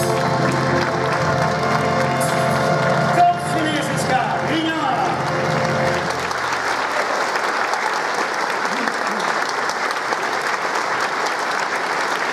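A concert audience applauds the orchestra, dense loud clapping that carries on steadily throughout, with musical tones and voices fading out early.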